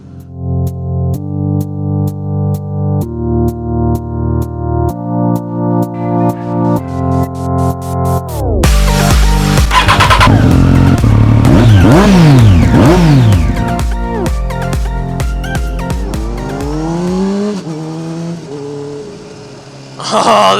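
A 2007 Honda CBR600RR sport bike's engine and exhaust, first a series of sharp, even throttle blips stepping up in pitch, then a loud riding run with rising and falling revs through gear changes, close and with no talk.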